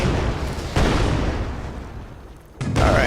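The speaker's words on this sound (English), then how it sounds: "so these 3 explosions happens and you're done" Three deep booming explosions mark the end of a video game factory level, loud and rumbling, with a short quieter gap before the final blast.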